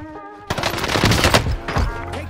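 Rapid automatic gunfire in a first-person shooter video game, a dense burst of loud shots that starts abruptly and keeps going for about two seconds, following a brief tonal game sound.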